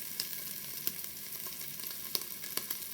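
Minced beef, 500 grams, goes into a hot Instant Pot while preparing Bolognese sauce, giving a steady close sizzle of frying with a few sharp crackles and spatters, no talking.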